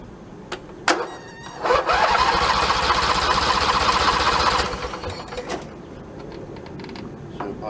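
A Husqvarna YTH2454 lawn tractor engine, freshly fitted with a rebuilt carburetor, cranks and catches, then runs steadily and loudly up close for a few seconds before faltering and dying out, with scattered clunks around it.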